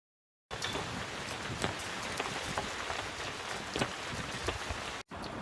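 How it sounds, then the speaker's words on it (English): Steady rain falls outside a tented camp in the Ladakh mountains, a dense continuous patter with occasional louder drops, close and even throughout with no talk. "It's raining outside now, wind blowing."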